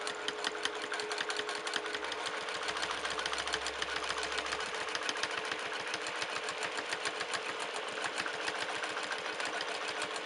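A sewing machine stitches a clamshell quilt, its needle running in a fast, steady, close mechanical chatter throughout, with no talk.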